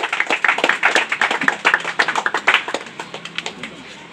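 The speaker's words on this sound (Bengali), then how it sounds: "সবাই একটু হাততালি দাও" A small crowd claps at a winter pigeon competition prize ceremony, a brisk run of sharp, close hand claps that thins out toward the end.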